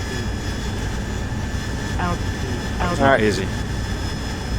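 A Harrier jet's engine hums and whines steadily in a war video game, holding a constant drone throughout while someone speaks a couple of brief words over it.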